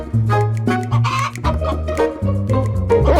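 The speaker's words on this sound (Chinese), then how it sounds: "母鸡咯咯叫着跑" A hen clucks loudly and repeatedly as she runs from a yellow dog in a cartoon story, with short close bursts of squawking clucks over a steady background.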